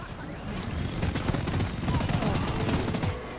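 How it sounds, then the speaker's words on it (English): Rapid automatic gunfire in the video game Deep Rock Galactic, dense continuous bursts of shots under faint background noise, with a player's voice briefly audible. "Oh, who's shooting me?"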